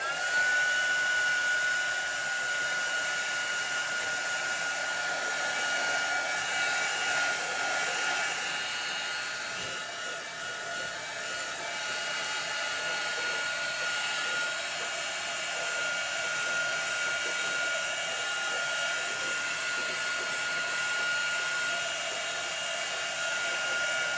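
A hair dryer blows steadily to dry alcohol ink on a ceramic Christmas tree, a loud continuous whooshing hum close by throughout, with no talking.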